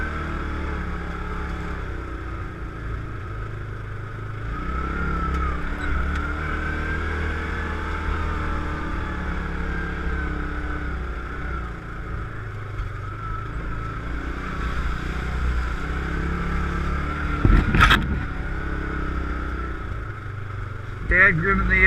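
Yamaha Rhino 700 side-by-side engine droning steadily while driving on trails, low rumbling hum that swells and eases with throttle, a sharp knock near the end, with people talking over it at times.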